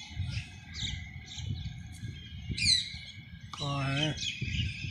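Small birds chirp and tweet in quick, high calls nearby in a garden in Ashok Vihar Phase III, while a person speaks faintly in the background.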